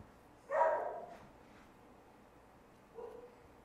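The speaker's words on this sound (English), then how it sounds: "There goes my dog barking." A dog barks indoors in a home kitchen, one loud distant-sounding bark followed by a fainter second bark a few seconds later, with quiet room tone in between.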